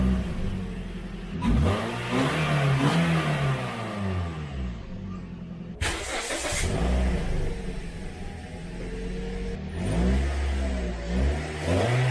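A Toyota Corolla engine, before DNA headers are fitted, revs up in three separate bursts, each climbing and falling back toward idle, loud and close with no talking.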